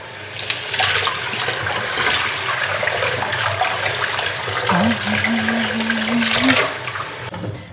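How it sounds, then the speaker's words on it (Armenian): Freshly gathered nettles are rinsed under a running kitchen tap, with a continuous rushing splash of water that stays steady and fairly loud throughout, with no voices. "Հոսող ջրի տակ լավ պահում եմ մի քանի անգամ։"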